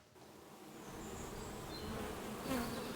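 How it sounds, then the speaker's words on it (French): Tens of thousands of bees buzzing around a new apiary of ancient-style hives in a reconstructed antique garden, a steady dense hum that slowly swells louder with a few insects passing close. "Plusieurs dizaines de milliers d'abeilles s'affairent autour de ce nouveau rucher."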